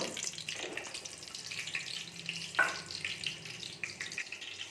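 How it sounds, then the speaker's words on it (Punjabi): Cumin seeds fry in hot oil inside a pressure cooker on a gas stove, giving a steady close crackling sizzle with a few sharper pops and clinks, and no voices. "ਆਪਾਂ ਇਹਦੇ ਵਿੱਚ ਪਾ ਲਿਆ ਤੇਲ ਆਪਾਂ ਪਾਤਾ ਦੇ ਜੀਰਾ ਵੀ"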